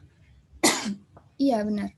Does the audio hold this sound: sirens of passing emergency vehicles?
no